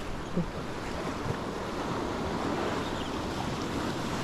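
Strong ocean surf pounds a shoreline where someone is bass fishing from the bank, a steady roaring wash of breaking waves mixed with wind noise on the microphone, with no voices.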